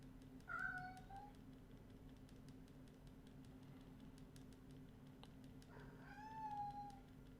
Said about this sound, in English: She came out of her hiding spot just to meow.